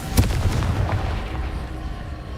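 Confringo blasting spell going off in the Hogwarts Legacy video game, a sharp booming burst at the start that rolls into a rumbling, crackling tail, fairly loud with no talking.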